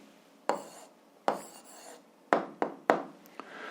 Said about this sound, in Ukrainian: І записуємо відповідь, пишемо відповідь